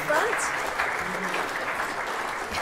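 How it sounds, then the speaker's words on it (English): Audience applause at a sixth form prize giving, a steady dense wash of clapping from a seated crowd filling the whole stretch at even loudness. "So, big round of applause."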